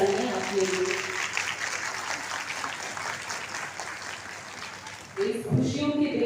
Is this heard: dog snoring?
no